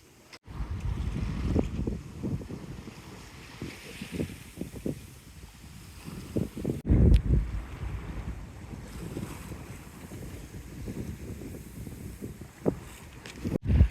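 Sailboat running downwind off the west coast of Vancouver Island, with steady wind rushing over the microphone, water washing along the hull and occasional bumps and gusts, no voices.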